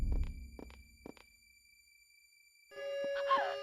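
Beeping in the PS1 game Clock Tower, three short electronic beeps spaced evenly at the start, then silence, then a loud sustained electronic tone that swells near the end.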